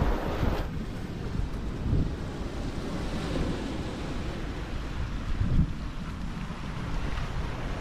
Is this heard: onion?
no